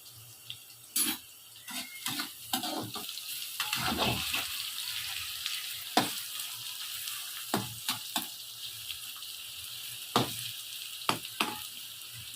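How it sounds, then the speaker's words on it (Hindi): Eggplant pieces frying in hot oil, a steady sizzle running throughout with intermittent sharp spatters and clinks of utensils, fairly close and alone without talk. "थोड़े थोड़े करके तलेंगे, एकदम सारे नहीं डालेंगे।"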